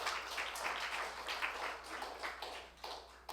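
A church congregation clapping during a Sunday sermon, a soft, steady patter of many hands across a few seconds, faint and somewhat distant, with no speech over it.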